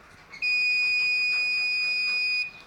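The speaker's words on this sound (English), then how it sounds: "Then LED glows and then buzzer beeps" A loud electronic buzzer on an Arduino-based door lock security system sounds after a wrong password, giving one steady, piercing tone that holds for about two seconds and then cuts off, with a faint background beneath it.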